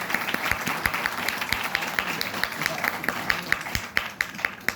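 An audience at a national theatre seminar on acting and drama claps steadily throughout, a dense run of many hands with sharp individual claps poking out, fairly loud and sustained.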